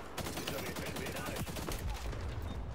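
Rapid gunfire from incendiary bullets in the shooter video game XDefiant, a dense, continuous burst of shots that stays loud throughout with no gaps.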